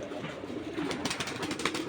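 Pigeons out in the sun coo softly nearby, a faint low murmur joined by a brief flurry of fluttering wings.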